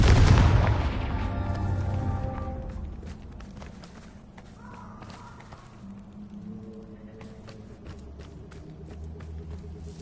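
A Confringo blasting spell goes off in Hogwarts Legacy with a loud, booming burst that rumbles and decays over a few seconds, followed by quieter footsteps and ambient game sounds, no talking.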